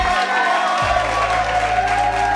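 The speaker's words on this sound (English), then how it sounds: "I feel like I need an applause for that." A burst of canned applause and cheering from a crowd, steady and fairly loud, layered over a sustained tonal background hum.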